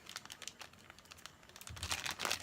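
A plastic bag crinkles in bursts while fidget spinners are unpacked from layered packaging, with soft rustling that grows louder and denser toward the end, close to the microphone.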